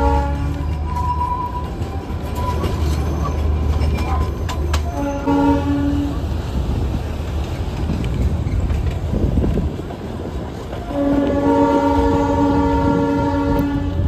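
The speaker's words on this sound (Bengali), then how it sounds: "এখন ট্রেন এসে পৌঁছালো তিনধরিয়া স্টেশনে" The Darjeeling Himalayan toy train arrives at Tindharia station in the hills, sounding several loud, sustained horn blasts over a constant engine rumble and track noise. A final long blast comes near the end.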